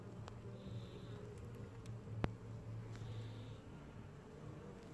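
Honeybees in an opened beehive during a Varroa mite treatment check, a soft steady buzzing hum under faint background noise with a few light taps, no talking.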